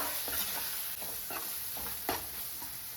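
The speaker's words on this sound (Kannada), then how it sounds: "ಫ್ರೈ ಮಾಡ್ಕೊಳ್ಳೋಣ" Masala frying in a pan for a peas and palak gravy, a steady soft sizzle with occasional stirring scrapes, close and fairly quiet with no talking.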